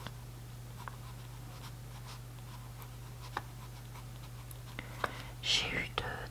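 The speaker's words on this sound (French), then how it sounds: "comment est-ce que je vais écrire ça?" Quiet handwriting from an ASMR session, pen strokes scratching softly on paper in short irregular bursts over a steady low hum, with a faint whisper near the end.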